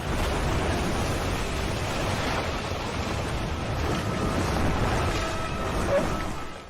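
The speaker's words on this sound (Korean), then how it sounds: "작은 고무보트는 폭풍에 쉽게 흔들리기 시작합니다." Storm waves at sea tossing a small rubber boat in a film scene, a dense, steady roar of surf and wind that holds at an even level throughout, with no voices.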